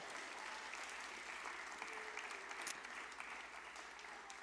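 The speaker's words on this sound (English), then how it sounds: "Let's give our astronauts a massive cheer." A church congregation at a space-themed family service applauds its astronauts. The soft, sustained wash of many hands clapping sounds slightly distant and holds at an even level throughout.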